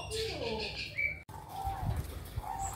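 Caged birds kept for sale coo and chirp close by in short calls and whistles, with a voice talking faintly underneath.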